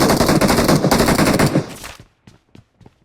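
Rapid automatic gunfire from the PUBG Mobile shooter game rattles loudly in a dense burst, then trails off into a few scattered, sharper single shots.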